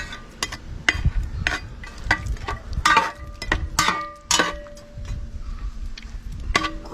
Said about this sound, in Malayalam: ഇപ്പോൾ വരാൽ കഷ്ണം തിളച്ച ഗ്രേവിക്കകത്തോട്ട് ഇട്ട് ഒന്ന് ഇളക്കി കൊടുക്കുവാണ്.